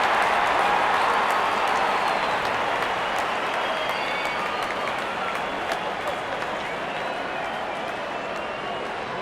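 A cricket crowd at a Pakistan vs England match applauds a boundary four. Loud, dense clapping and cheering fills the whole stretch, easing off slightly toward the end.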